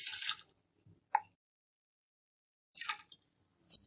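Water poured onto sugar for jalebi syrup, heard as two short, soft splashing pours with a few small drips and clinks between them, quiet and close, with no talking.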